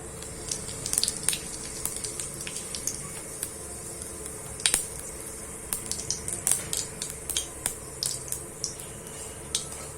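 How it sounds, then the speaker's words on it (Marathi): Cumin seeds crackle and spit in hot oil in a kadhai during a tempering for tomato rasam, a dense run of sharp pops and sizzles over a steady hiss, with no talking. "जिरं तडतडून झालं की आपण यात लसूण घालायचा आहे क्रश करून"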